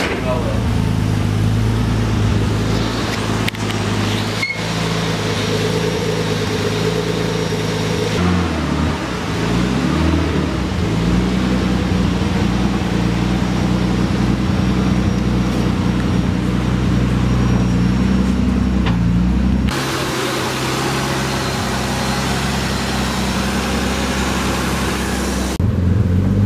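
A Nissan 240SX fitted with an RB25 engine idles steadily just after its first startup on a newly finished exhaust, a loud, continuous mellow drone with slight shifts in tone as it runs.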